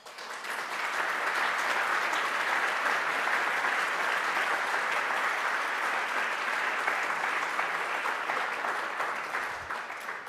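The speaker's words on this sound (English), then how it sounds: "let me start by asking from all of you a big round of applause to all the finalists" A large audience at a European small and mid cap awards ceremony applauds the finalists, with dense, sustained clapping that fills the hall at an even level for about ten seconds and fades slightly at the end.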